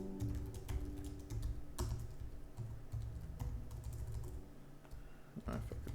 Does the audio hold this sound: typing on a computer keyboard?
yes